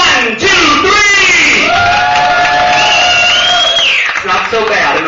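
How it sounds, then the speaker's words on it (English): A pageant audience cheers and whoops loudly, with scattered clapping mixed into a dense, continuous crowd roar that holds steady to the end. "So just feel free to clap"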